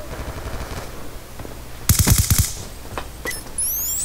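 Weapon fire in Call of Duty Black Ops 2: a short, loud burst of rapid automatic shots near the middle, followed by a few scattered single shots and a sharp whizzing effect at the end.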